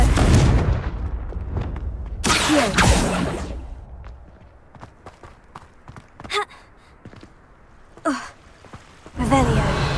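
A Confringo spell is cast in the Hogwarts Legacy video game, heard as a burst of whooshing effects and impacts amid game sounds, with a voice calling out the spell in the clip.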